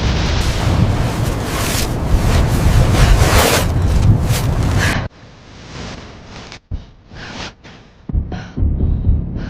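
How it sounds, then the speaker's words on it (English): Strong wind high on Everest buffeting the microphone, a loud roaring rush that cuts abruptly to quieter gusty bursts and thumps while a ladder is pressed against ice. "The wind is pushing the ladder against the ice."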